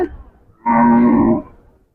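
A bull at the Hazratpur cattle market in Keraniganj, Dhaka gives one loud, close, sustained moo lasting under a second, after a brief stretch of low background murmur.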